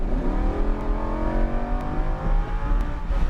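Lamborghini Huracan LP 610-4 pulling hard on a race track at a track day, a steady loud engine roar with rising harmonics as it accelerates, sustained throughout with no talk.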